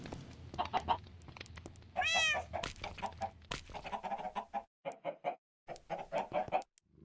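A Minecraft cat lets out a clear rising meow near the start of a busy game soundscape, with soft purring and other in-game creature noises around it.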